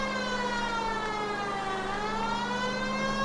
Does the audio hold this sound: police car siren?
yes